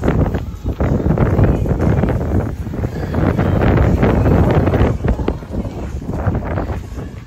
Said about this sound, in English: How's that wind gust, Rex?